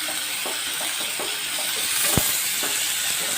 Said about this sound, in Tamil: இந்த தக்காளி நல்லா வதக்குங்க.